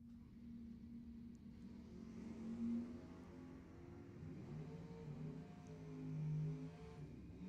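A Mustang and a Nova drag racing cars launching down the strip at Lebanon Valley Dragway, a faint, distant engine drone that swells and fades with rising and falling pitch.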